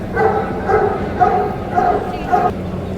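A miniature pinscher at a dog show in Trivandrum gives five evenly spaced, sharp yipping barks close by, with a busy background of voices.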